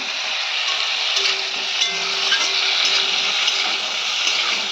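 Cauliflower florets frying in oil in a pan for a home-cooked Bengali curry, giving a steady, dense sizzle that runs unbroken throughout, close and fairly loud, with no talking.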